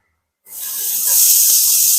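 Chopped onions dropped into hot oil with mustard seeds and fennel, bursting into a sudden loud, steady sizzling hiss after a moment of silence and holding close and strong.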